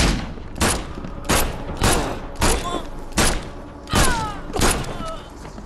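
Gunfire in the video game The Sinking City: about eight heavy, booming shots spaced roughly every half second to second, each one loud and close with a short decay.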